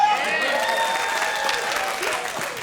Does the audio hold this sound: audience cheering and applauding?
yes